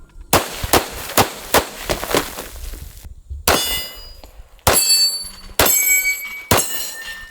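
A Springfield Armory Emissary 1911 pistol fires a fast string of sharp, close shots, with ringing metallic clangs of steel targets like a Texas Star between bursts and brief gaps between strings.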